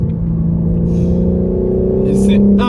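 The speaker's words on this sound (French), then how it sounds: "on a un moteur un peu plus féroce qui gueule plus longtemps" A BMW M4 Competition's 510-horsepower engine drones loudly and steadily, rising slightly in pitch near the end, with a voice speaking briefly over it.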